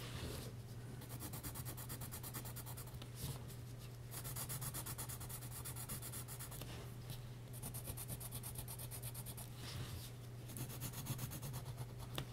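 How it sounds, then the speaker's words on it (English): A pencil scratches across paper while drawing a realistic eye, with faint, close, repeated rubbing strokes in short bursts and brief pauses between them. "I always have multiple sharp pencils, so I don't have to sharpen a pencil while I'm drawing."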